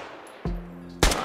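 A bipod-mounted machine gun fires in Squad, with two sharp, loud bursts of shots close by, each followed by a ringing tail against a quiet background.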